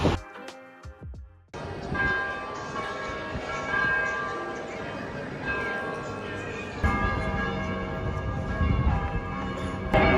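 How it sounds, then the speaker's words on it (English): Church bells ring continuously in Zürich, a dense overlapping clangor that swells louder partway through, with some honking and background noise mixed in. "All these bells ringing, look at them."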